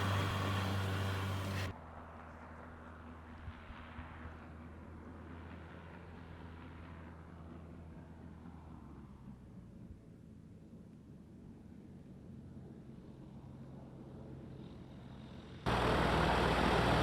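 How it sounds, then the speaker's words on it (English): A powered hang glider making a low pass over a runway, its engine a steady distant drone that swells and fades, framed by louder wind-buffeted noise at the very start and end. "Here James is doing a low pass over the runway."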